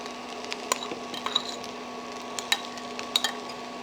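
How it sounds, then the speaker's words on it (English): Fried rice with frozen peas, eggs and green onions is tossed in a pan, giving sparse soft clicks and scrapes over a quiet steady background hum. "just mix everything up, and you can kind of break up the eggs"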